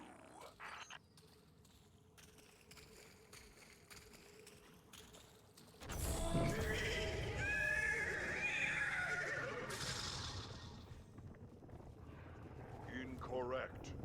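A horse in the video game Destiny 2 neighs with a loud, rising whinny amid busy game sounds and a low rumble, after a quieter stretch with a voice speaking.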